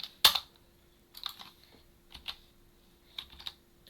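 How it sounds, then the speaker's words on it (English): Someone types on a computer keyboard while working in Blender 3D, giving a sharp opening click and then small, irregular clusters of keystrokes with quiet gaps between them. "Sorry about the keyboard noise."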